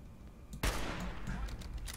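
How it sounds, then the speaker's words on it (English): A high-powered rifle shot in Fallout 4 cracks sharply and loudly, a single blast followed by a lingering broadband rumble and echo. "He just got shot in the head"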